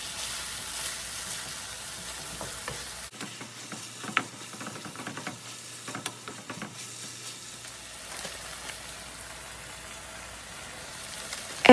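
Stuffed bell pepper filling, mixed with tomato sauce from a can, being stirred in a pan, giving a soft steady sizzle with small scraping clicks. The sizzle drops away in the middle and then returns.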